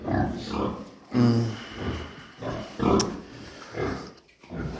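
Farm pigs grunt and snuffle close by in repeated short bursts, with a low squeal or two among them and a little background voice.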